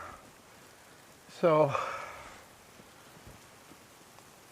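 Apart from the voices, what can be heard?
rain falling outdoors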